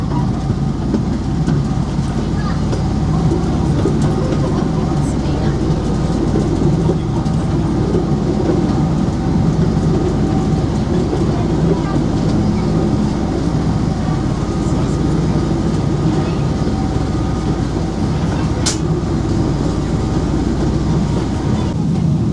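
A theme park ride vehicle at Parc Bagatelle rumbles steadily on its track as it runs into a tunnel, a loud continuous clattering roar that carries on throughout, with a faint squeal near the end.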